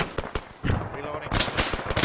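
Gunfire during infantry platoon training, with several sharp bursts and single shots close by, mixed with rustling movement and voices talking over the firing.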